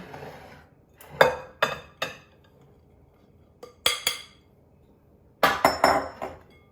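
Bowls of cake batter for sticky toffee pudding are scraped and tipped into a big bowl, giving several sharp ceramic clinks and knocks in small clusters, with quiet gaps between them and no talking.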